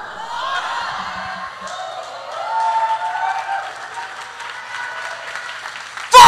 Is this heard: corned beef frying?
no